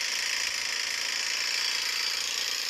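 Small two-stroke engine of a worn Honda shoulder brush cutter with a loose engine, running continuously with a rough, buzzing rattle, close by and steady, no voices.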